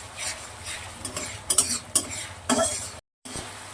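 Spice paste sizzles in hot oil in a pan for a cauliflower curry, a soft steady fry broken by several clinks and scrapes of a spoon stirring, with a brief gap near the end.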